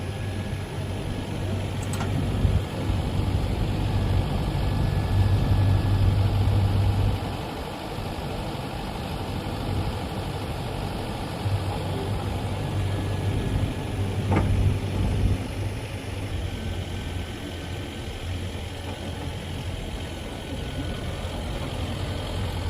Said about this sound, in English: let me go get in the tractor